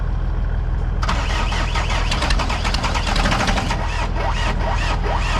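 A homemade cultivator built from scrap metal kicks its engine into life after a second of low rumble, then settles into a loud, rough, close running chatter with uneven revving that carries on steadily to the end.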